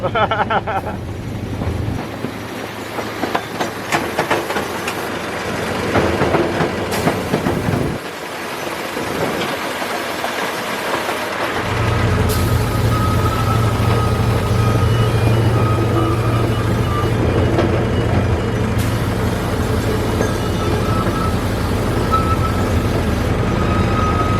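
A train ride captured from on board: a loud, rumbling ride with steady low drone, wind buffeting across the microphone and a brief lull before the engine noise swells again and holds.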